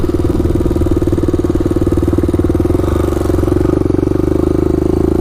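Honda ATC 350x three-wheeler running close by with a loud, steady engine drone and a rapid pulsing exhaust beat that holds level throughout.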